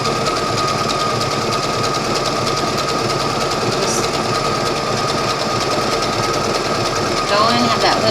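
A sewing machine runs steadily and loudly up close, stitching a fabric seam for a wine glass cozy. The mechanical whir continues without a break, and a voice talks over it.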